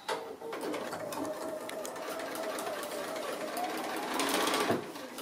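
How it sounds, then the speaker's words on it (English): Sewing machine stitching close to the edge of a fabric binding strip on a hanging pocket, a steady fast whirring run for several seconds that stops abruptly near the end. "So I'm just going to sew close to the edge of the binding strip now."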